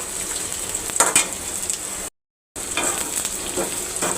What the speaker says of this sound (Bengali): এখন আমি পেঁয়াজটাকে একটু সতে করে ভেজে নিচ্ছি